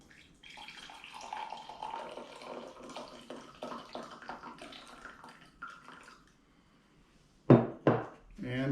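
Coffee being poured out of a pour-over coffee maker, starting with a near, gurgling liquid splash after a stretch of quiet trickling and handling sounds.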